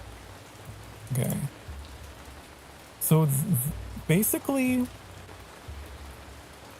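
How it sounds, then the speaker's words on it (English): Steady rain hiss from the city-building video game Ancient Cities, an even wash of noise throughout, interrupted by a person talking in short bursts over it. "So the rain's really loud. If you zoom in, it's louder."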